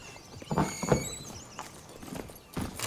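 Roach, the horse in the video game Witcher 3, trots with a handful of hollow hoof clops, fairly close and irregular over a quiet background.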